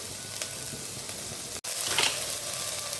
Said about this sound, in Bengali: শুকনো লঙ্কা গোটা জিরে আদা রসুন পেঁয়াজ, এটাকে একটু ভালো করে ভেজে নিচ্ছি।